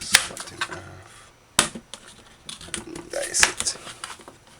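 A knife cuts through a turnip during meat stew prep, giving a few sharp, close chopping strokes spaced out with a pause between, along with light handling rustle.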